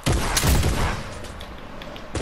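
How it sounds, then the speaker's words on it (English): Bursts of rapid gunfire in the video game Fortnite, a loud clattering volley up front that thins out and then returns briefly at the end. "I'm shooting him!"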